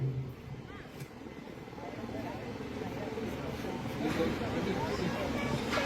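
Two Sea King helicopters fly over a naval exercise at RK Beach in Vizag, a steady distant rotor roar that slowly swells louder, with crowd babble and a voice talking over it.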